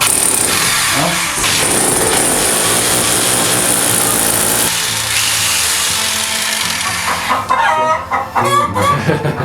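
Chickens and a rooster cluck and squawk loudly and agitatedly at close range, stirred up by drilling nearby, with mechanical noise dense throughout and sharper bursts of clucking near the end.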